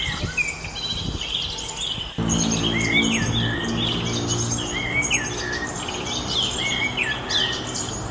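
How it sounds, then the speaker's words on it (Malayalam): Many small birds chirp and tweet at a backyard birdhouse, quick bright calls overlapping and fairly close, over a steady low background hum with a faint insect-like buzz. "നമ്മളാ കിളിക്കൂട്ടിൽ ഇതാ നോക്കിക്ക് കുറേ കിളികൾ വരുന്നുണ്ട് കേട്ടോ."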